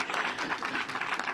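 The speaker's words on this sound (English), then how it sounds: "you can clap." An audience claps during a school-related press event with the governor, a brief burst of dense, moderately loud clapping heard close by.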